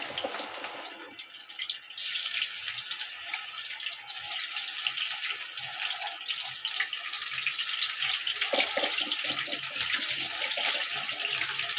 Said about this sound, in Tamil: இதில் இப்போ நம்ம சோயாவை ஆட் பண்ணிக்கலாம் இது ஃப்ரை பண்ணி எடுத்துக்கலாம்